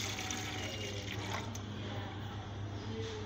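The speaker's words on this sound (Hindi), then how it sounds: "मैं डाल रही हूँ जूसर में 1 गिलास दूध।" A glass of milk poured into a juicer jar while making an Oreo milkshake, giving a steady, soft liquid pouring and splashing sound that continues evenly at low volume, with no talking.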